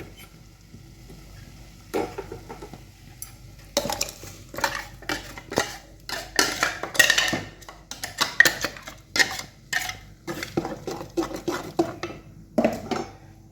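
Masala paste going into a pot of Kasaragod-style tiger-fish chilli curry: a quiet start, then a run of sharp metallic spoon scrapes and clinks against the pot, close and irregular.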